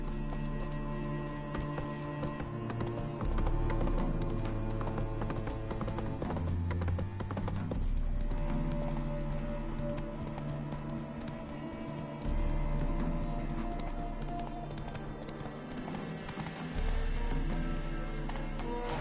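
Roach the horse gallops in The Witcher 3: Wild Hunt, steady clip-clop hoofbeats running on and on under a thick game soundtrack, close and fairly loud.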